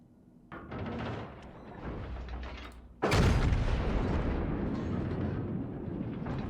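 Warship main-battery guns fire in the naval game World of Warships: a mechanical turret rumble, then one sudden loud booming salvo around the midpoint that rolls on as a heavy sustained roar.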